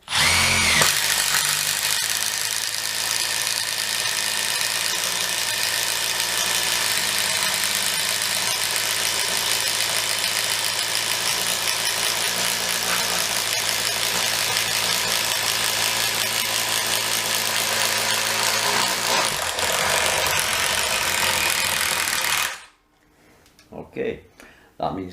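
A Milwaukee M12 FID Gen2 brushless impact driver runs continuously for about twenty-two seconds with a loud, steady, high-pitched whine and hammering rattle, then cuts off abruptly, leaving brief clicks and quiet.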